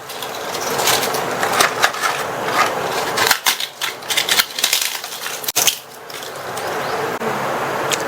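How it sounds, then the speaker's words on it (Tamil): Fried appalam papads broken apart by hand, giving dense brittle crackling and snapping bursts that come in irregular clusters close up, with short pauses between handfuls and no voice. "நம்ம பொரிச்சு வச்ச அப்பளத்தை ஒவ்வொன்னையும் இந்த மாதிரி உடைச்சு வச்சுக்கோங்க."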